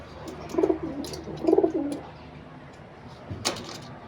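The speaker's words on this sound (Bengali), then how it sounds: "এই কবুতরকে আমি ধরলাম" Pigeons kept as pairs give two close, throaty coos about a second apart, followed by a low rustle and a brief knock against steady background noise.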